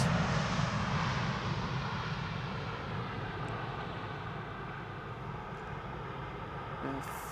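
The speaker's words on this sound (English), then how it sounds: "Doing a typical KLM style landing here. Idle reversers." A KLM airliner lands and rolls out at Schiphol with idle reversers, a broad steady roar of engines and rushing air that eases slightly as the aircraft slows, heard from a distance.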